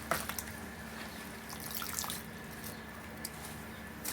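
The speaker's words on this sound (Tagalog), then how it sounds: "hugasan na natin yung ano ating malunggay" Running water from a tap splashes over fresh moringa leaves being washed in a sink, a steady close trickle with scattered drips and small wet squishes, no talking.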